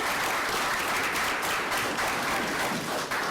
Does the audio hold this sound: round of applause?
yes